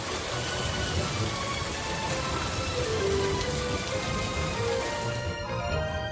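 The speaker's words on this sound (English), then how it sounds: "The strong wind whooshes past and whistles, and big drops of rain start to fall" Steady rain falling in big drops, a continuous dense pitter-patter hiss that stays evenly loud throughout, with no voices.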